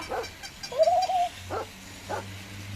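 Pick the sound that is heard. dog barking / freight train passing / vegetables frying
dog barking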